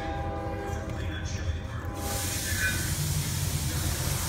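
A train horn sounds steadily for about two seconds, then gives way to a loud broad hiss and rumble like passing rail cars, heard at a moderate distance.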